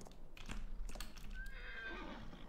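In a farming video game, a horse gives a loud close whinny while its hooves clop on the ground in a quick sequence of knocks.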